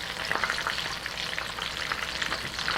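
Spring rolls frying in hot oil, a dense continuous crackling sizzle with rapid popping bubbles, steady and close throughout with no voices.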